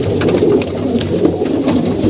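Pigeons coo in low, continuous murmuring calls, several birds overlapping close by with no talking.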